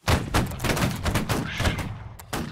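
Close musket volley in Holdfast: Nations At War, with a line battle of the 92nd Gordon Highlanders: a ragged burst of many overlapping gunshots cracking in quick succession, then scattered later shots.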